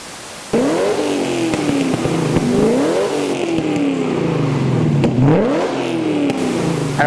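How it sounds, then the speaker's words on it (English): A car engine fitted with a Pacemaker high-performance exhaust revs hard and close, rising and falling through several loud sweeps after a sudden start, with a throaty exhaust note throughout. "A high performance exhaust from Pacemaker."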